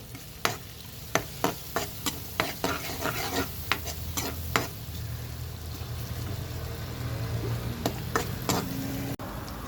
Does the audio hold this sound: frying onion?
yes